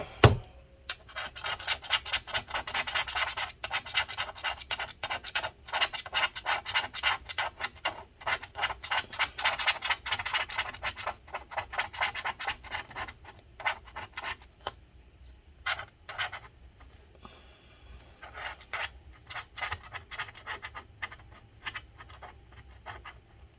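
Adhesive residue is scraped off the battery of a 2012 15-inch Retina MacBook Pro A1398, giving rapid, close scratching strokes in uneven bursts that thin out into sparser scrapes with short pauses, with no talking.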